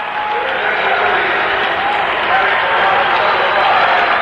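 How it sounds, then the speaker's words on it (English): A baseball crowd at RFK Stadium applauds a Washington Senators pinch hitter in the team's final game there in 1971, a dense, sustained wash of clapping that swells slightly midway, with a voice talking over it. "Casey gets a big hand from the crowd here as he makes his final appearance as a Washington Senator."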